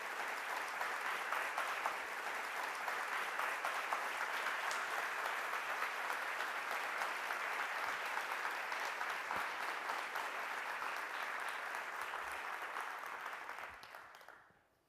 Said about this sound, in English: please welcome with a warm round of applause, Professor Walter Lewis.